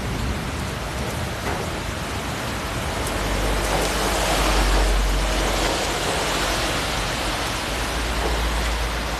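Steady rain during a thunderstorm at a hill station near Nainital, a dense continuous hiss with a low rumbling swell midway, close and fairly loud with no talking.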